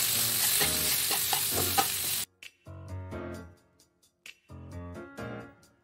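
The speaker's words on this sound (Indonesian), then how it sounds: "Kita aduk" Oncom filling for chili-spiced combro is stirred in a frying pan, a close scraping and sizzling that runs steadily, breaks off for a moment, then resumes in short bursts with brief pauses.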